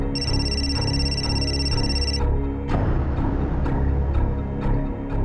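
A telephone rings on the line during a call, a steady high electronic tone lasting about two seconds over a constant low hum, then cutting off into faint clicks and background noise.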